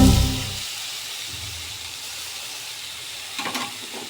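Three tomatoes tumble into a hot frying pan for an onion-tomato thokku, giving a loud sizzling burst that settles into a steady, fainter hiss of frying, with a brief stir near the end.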